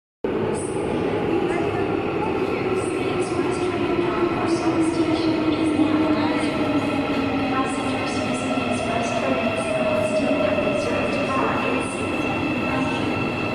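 Interior of a moving train on the route to Busan, South Korea, with a steady loud rumble, rolling wheel noise and faint squeals running throughout.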